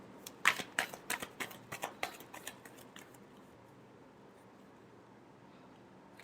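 Tarot cards being shuffled give a quick run of crisp, riffling flicks for about three seconds, close and fairly quiet, then fade into near silence.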